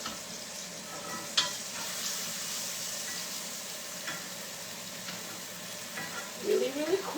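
Red snapper fries in a skillet while being basted, giving a steady soft sizzle with a few light clinks and spoon scrapes near the end.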